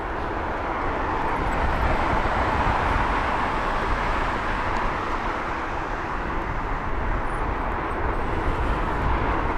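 An Etihad Airbus A380 departs London Heathrow at sunrise, making a 90-degree turn onto its own track. A steady, broad jet roar holds at an even level for the whole stretch, with no voices.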